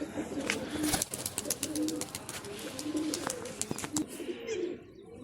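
Pigeons coo repeatedly nearby in soft, rolling calls that recur every second or so, with scattered brighter chirps and clicks around them.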